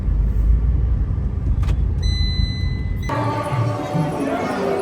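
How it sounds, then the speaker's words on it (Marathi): Heavy road traffic with cars and buses: a continuous loud engine rumble and road roar, with a sustained horn-like tone partway through and faint background voices. "इकडं बघा किती ट्रॅफिक आहे एवढ्या गाड्या लागल्यात"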